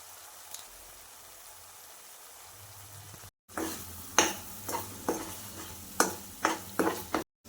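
Masala frying in oil in a pan for stuffed brinjal curry, stirred with a spoon in a run of sharp scraping strokes over a steady sizzle, with a quiet lull before the stirring begins.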